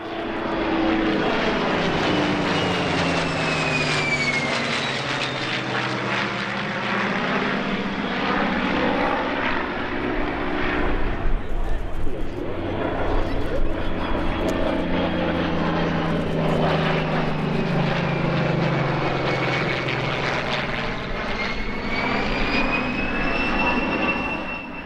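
Heritage flight aircraft making a low pass at EAA AirVenture Oshkosh, a loud propeller and engine drone that sweeps in and away with a clear Doppler pitch shift, then another pass building again.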